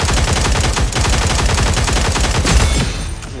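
Rapid gunfire from the shooter game Cyber Hunter, loud and close, with dense overlapping bursts of shots running the whole time and a sharper burst near the end.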